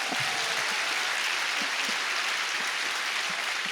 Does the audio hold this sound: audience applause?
yes